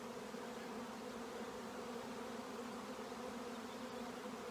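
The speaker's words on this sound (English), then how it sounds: "So they're just happy bees doing their thing, but next door we got neighbors moving in." Honey bee swarm moving into a nearby hive, a dense steady buzzing hum of many bees, continuous and fairly faint with no voices.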